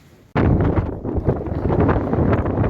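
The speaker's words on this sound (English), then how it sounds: "So windy out here." Strong wind buffets the microphone outdoors on a Pennine Way hike in open hill country, bursting in suddenly after a brief quiet moment and then roaring loud and continuous with gusty surges.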